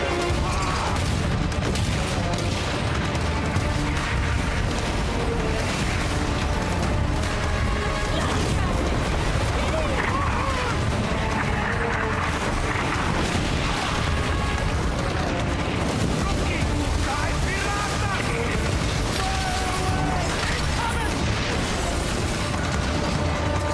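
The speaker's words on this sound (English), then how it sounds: "The enemy strikes first. The first ship goes down, breaking your formation." A naval ship battle in a Ubisoft video game trailer, with repeated cannon blasts and explosions over a dense, constant bed of music and effects while a narrator speaks throughout.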